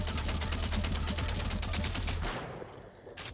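Rapid automatic gunfire from dual-wielded guns in the VR shooter After the Fall, a dense, loud burst of shots that runs for about two seconds and then stops abruptly, leaving a fading tail and faint game noise.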